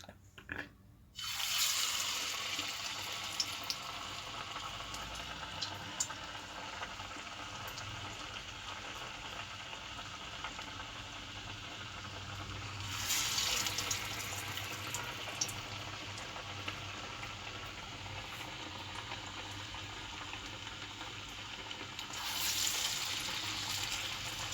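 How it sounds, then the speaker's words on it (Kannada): Masala vada frying in hot oil make a continuous soft sizzle and bubbling hiss, swelling louder a couple of times as more batter goes in, with no talk. "ಈಗ ಎಣ್ಣೆಗೆ ಹಾಕ್ತೀನಿ."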